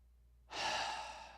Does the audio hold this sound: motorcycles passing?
no